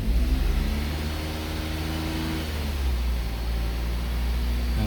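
A Jeep engine sitting in park under no load climbs to about 2000 RPM and holds there, a steady close drone with clear low harmonic hum and faint hiss, no talking.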